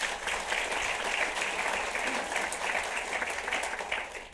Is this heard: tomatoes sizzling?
no